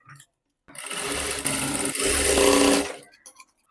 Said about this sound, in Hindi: ऊपर की तरफ सिलाई लगा रही हूँ पलट के।